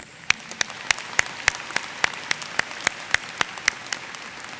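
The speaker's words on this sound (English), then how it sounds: "Please join me in applauding these special guests." A few people in a college commencement audience clap for special guests, sparse individual hand claps in a fairly steady rhythm, sharp and separate rather than a full ovation.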